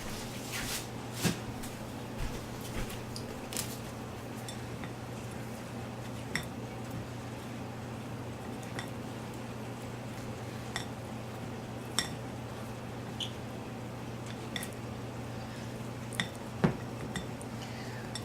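Crunchy quinoa salad with black sesame seeds is stirred in a bowl, with soft scraping and occasional light clinks of a utensil against the dish over a steady low background hum, faint and close.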